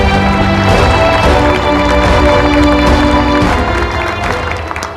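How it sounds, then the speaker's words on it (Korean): A large audience applauds Samsung chairman Lee Jae-yong at a national investment briefing, loud sustained clapping under a steady musical fanfare. "이재용 회장님께 큰 박수 부탁드립니다"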